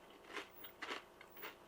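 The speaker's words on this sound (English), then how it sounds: "don't know if you can hear the crunching" Close, crisp crunches of biting and chewing a homemade air-fried spiralized potato chip with chili cheese seasoning, three or four distinct crackly bites in a quiet room.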